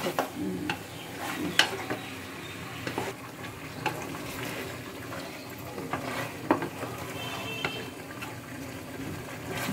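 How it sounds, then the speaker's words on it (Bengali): Beef is stirred and sautéed in a pan with a soft sizzle, and a spoon scrapes and clinks against the metal at irregular moments, all fairly quiet and close. "এখন এটা একটু ভালো মতো কষাই নেব"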